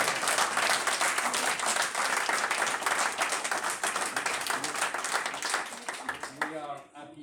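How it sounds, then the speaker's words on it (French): A wedding-hall crowd claps steadily for a couple marking fifty years of marriage, the dense applause filling the room for several seconds before thinning out as a voice begins speaking near the end. "Là, on peut les applaudir à nouveau,"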